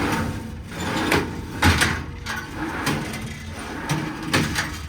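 Drawers in the passenger wheel well of a 2019 Kenworth T370 truck slide open and shut, giving several close, brief whooshing scrapes spaced about half a second apart over a low background hum.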